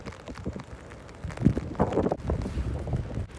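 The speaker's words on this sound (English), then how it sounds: "can we turn down the wind?" Gusty wind buffets the microphone in a London park, low rumbling rushes that swell and fade across a few seconds, loud and close with no talking.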